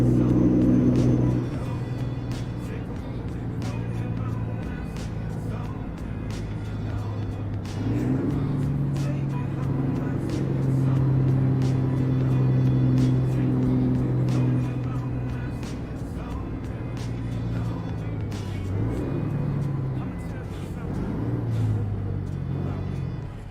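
A heavy truck engine labours to accelerate in a trucking game, a low steady rumbling drone that swells and holds for a long stretch with gear-like shifts in pitch, loud and close, with no talk.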